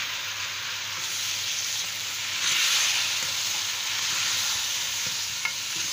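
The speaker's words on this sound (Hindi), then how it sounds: "ये 5-6 टमाटर हैं, ये बड़ी कटे हुए शामिल कर रही हूँ।" Chopped tomatoes being stirred into a hot pan for an egg and onion dish, giving a steady, loud sizzling hiss close up that swells briefly midway, with no talk.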